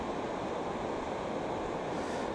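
Steady, broadband wind roars outdoors for the whole stretch while a Fimi X8 Mini drone is being flown. The rush is constant and fairly faint, buffeting the microphone, with no talking.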